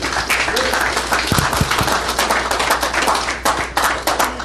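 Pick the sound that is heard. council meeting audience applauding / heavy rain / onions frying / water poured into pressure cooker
council meeting audience applauding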